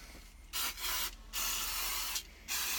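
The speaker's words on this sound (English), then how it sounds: "clutch and brake cleaner." Clutch and brake cleaner is sprayed onto Porsche 911 SC engine parts during a rebuild, in three sustained close hissing bursts with short pauses between them.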